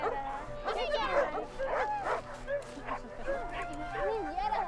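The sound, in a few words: puppy barking and whimpering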